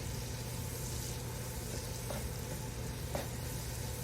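Onions fry in a pot for loaded potato soup, giving a steady, quiet sizzle throughout with a couple of faint clicks from a utensil, and no talking.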